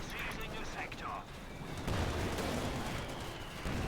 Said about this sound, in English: The mortar fire, there we go. Good hit.